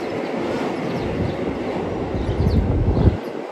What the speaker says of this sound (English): That's a train running underneath of us.